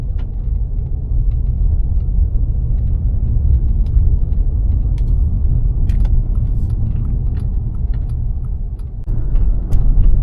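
Steady low engine and road rumble inside a taxi car driving through Dnipro city streets, with faint scattered ticks over the continuous drone.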